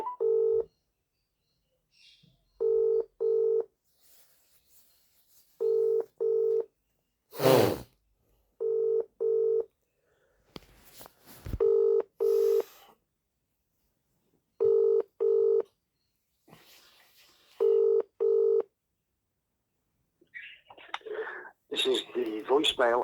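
Telephone keypad tones dial a Bradford Council number in repeated paired bursts of steady tones separated by pauses, with a few clicks between, followed by a voice answering at the end.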